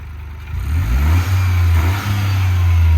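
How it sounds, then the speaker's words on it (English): A 2023 Toyota GR Corolla Core Edition engine with a K&N intake revs loudly up close, rising in pitch with a deep throaty roar, holding high before dipping and climbing again. "Well, I like the engine sound."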